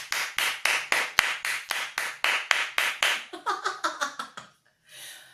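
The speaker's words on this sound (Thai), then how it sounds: "ปรบมือให้เจ้าของ" A small audience claps hands in a steady, sharp rhythm of about a dozen loud, close claps, loosening into scattered faster clapping before stopping, followed by a brief soft noise.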